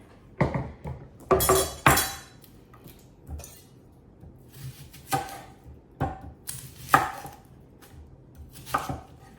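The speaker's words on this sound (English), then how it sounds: "Then I'm gonna chop up our onion." An onion is chopped with a knife on a board, giving a series of sharp, close thuds in irregular clusters with quiet gaps between them and light clinks of utensils.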